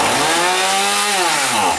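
A chainsaw with fuel problems sputters to life and runs briefly, its engine note rising and falling in a loud, close, steady roar with no talking.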